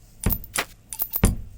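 Keys jangle in several quick, close metallic bursts, sampled for use in a beat, with short gaps between the shakes.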